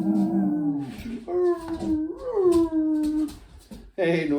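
A dog howls in long, wavering, rising and falling tones that come in several drawn-out phrases at close range, sung along with a guitar being restored as a Christmas box guitar, while people talk nearby.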